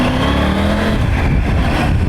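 A Triumph Tiger 900 Rally Pro's engine pulls hard under acceleration, a loud, continuous close-up roar with a rising tone over a dense rumble of wind and road noise.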